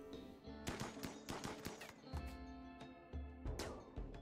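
Gunfire from colonists shooting zombies in RimWorld: rapid bursts of automatic shots in uneven clusters, fairly close and continuous, with no talk over it.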